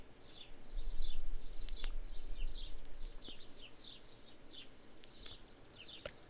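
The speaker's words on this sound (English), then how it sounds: "Lots of bird sounds." Birdsong in the ambience of the game Rise to War: repeated high chirps in a steady cycle over a soft background hiss, with a few sharp clicks and no talking.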